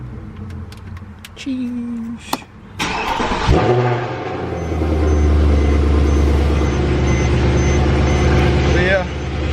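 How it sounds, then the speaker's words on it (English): A cold 1979 Toyota Corolla cranks and fires up inside a garage, then settles into a loud, steady idle with a deep rumble; voices talk briefly over the start. "I'll start the car, but I'm not standing behind it."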